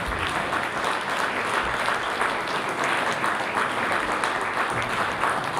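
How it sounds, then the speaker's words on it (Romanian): At a Christmas carol concert, an audience gives sustained, even applause of many hands, fairly close and steady for several seconds with no talking over it. "Haideți să o aplaudăm."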